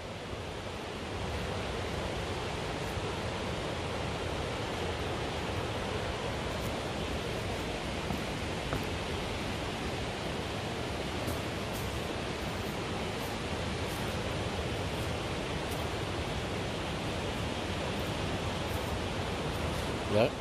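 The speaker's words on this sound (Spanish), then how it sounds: "Pueden escuchar impresionantemente el ruido, el sonido del río." Rushing river water in an outdoor setting, a steady broadband roar that holds at an even level throughout, close and continuous with no other clear sounds.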